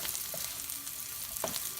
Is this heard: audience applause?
no